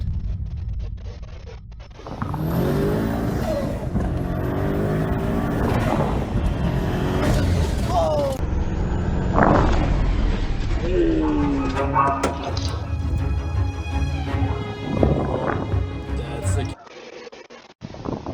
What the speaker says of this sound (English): we just witnessed this engine completely shit itself in front of our very eyes